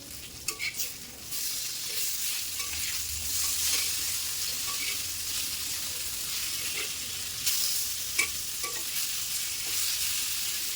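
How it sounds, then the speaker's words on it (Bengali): Five pieces of fish fry on a tawa with a bright, continuous hiss of oil, steady and fairly close, broken by a few soft clinks and stirring sounds. "পাঁচ পিস মাছ আমি তাওয়ায় দিয়ে নিলাম"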